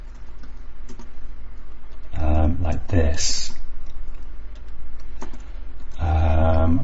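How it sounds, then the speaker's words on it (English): Keys clatter on a computer keyboard in quick runs of clicks near the mic, while someone talks over and between the bursts. "I'm pressing the wrong key on my keyboard."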